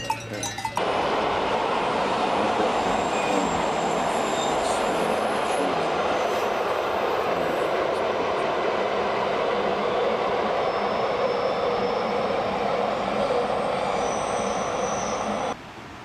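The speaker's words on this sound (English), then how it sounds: "hear in the background some trains" Trains passing in the background of a Graubünden mountain pasture, a long steady rail rumble with faint metallic wheel squeal, heard at a distance for most of the stretch before cutting off.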